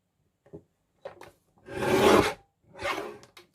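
A paper trimmer blade slides through a card panel as it is trimmed down in papercraft. Faint clicks come first, then two close, raspy cutting strokes, the first longer and louder than the second.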